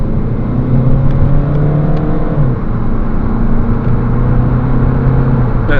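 A 2009 Ford Mondeo Titan X Sport 2.0 TDCi diesel pulls hard from standstill toward 60 mph, its engine droning and rising in pitch through successive gear changes, heard loud and steady from inside the cabin.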